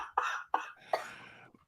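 Three sharp coughs in quick succession, close and moderately loud, each a harsh burst trailing off, the last one longer and raspier.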